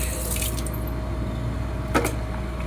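Water splashing and dripping as a child bathes, a soft steady trickle with a brighter splash burst near the end.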